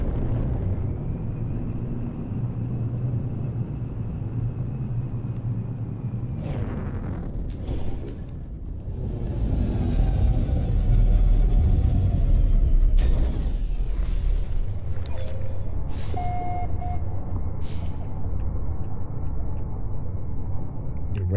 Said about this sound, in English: Incoming storm.